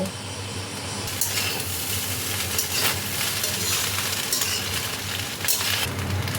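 Mixed Chinese fried rice with garlic greens and spring onion greens being stirred and fried in a pan: a steady, loud sizzle with scraping and light clinks of a utensil against the metal, with no talking.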